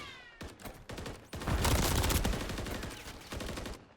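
Rapid SMG gunfire from a Call of Duty match, heard as dense bursts of automatic shots layered with game effects, loudest in the middle and continuing in short volleys toward the end.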